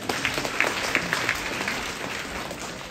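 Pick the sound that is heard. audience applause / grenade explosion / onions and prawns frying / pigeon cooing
audience applause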